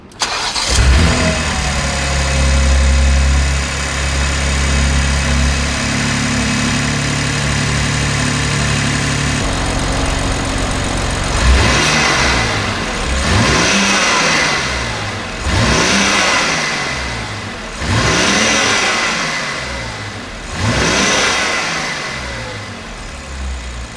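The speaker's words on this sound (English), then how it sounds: "we will have a sound check of how the factory airbox and the filters sounds on the X4M" A BMW X4M Competition with its factory airbox and filters starts up loud and close, idles, then gives a series of sharp revs that rise and fall in regular bursts.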